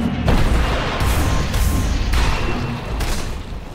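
A Dota 2 tower collapses in a series of heavy, rumbling booms, three or four close, loud blasts that roll into one another with no voices over them.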